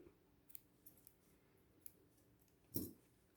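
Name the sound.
scissors cutting a small thread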